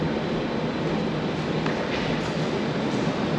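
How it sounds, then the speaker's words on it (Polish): A metro train in a Malaga underground station, heard as a steady, loud rumbling roar of the train arriving that fills the whole span without pauses. "O, przyjechało metro akurat"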